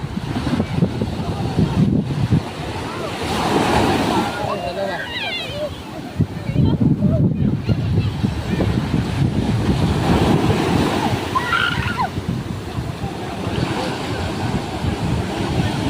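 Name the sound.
sea waves near a fishing boat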